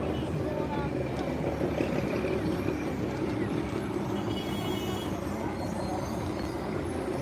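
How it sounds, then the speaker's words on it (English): A train rolls past in Tlaquepaque, Mexico with a steady heavy rumble and clatter, while voices murmur faintly underneath. "Is that a train? It is, yeah."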